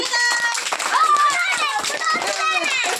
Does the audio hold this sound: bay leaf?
no